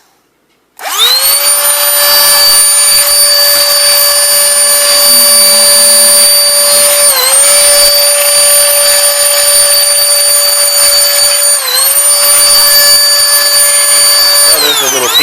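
Canless Air O2 Hurricane electric air duster switching on and blowing with a loud, steady high-pitched whine and roar, dipping briefly twice, close up and continuous.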